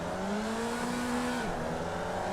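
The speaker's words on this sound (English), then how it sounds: "People are starting their engines. I guess you do that. Start with revs up." Race car engines revving together at the start of a racing game. There is a steady, loud drone of held revs, and the pitch drops partway through.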